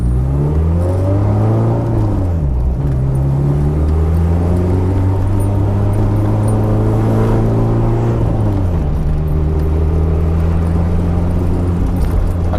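A turbocharged Eagle Talon engine drones steadily at close range, pitch rising and falling as it revs through gears with a deep rumbling, vibrating tone throughout.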